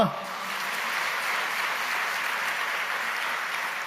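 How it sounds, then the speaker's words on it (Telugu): An audience at a Christian preaching gathering claps together in a sustained, even burst of applause, heard fairly close with no pauses. "చప్పట్లు కొడదామా?"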